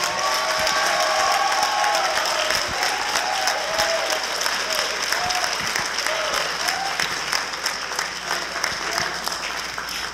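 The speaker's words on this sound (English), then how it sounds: "Can we give them another round of applause," A crowd at a high school honor society induction ceremony applauds continuously, a dense, even wash of many hands clapping for the full stretch with no voices.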